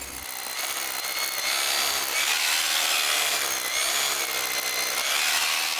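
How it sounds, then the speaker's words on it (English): A power drill bores into the stone wall of an old chateau, a harsh continuous grinding and rasping that stays loud and steady with slight surges throughout. "We're having a little drill."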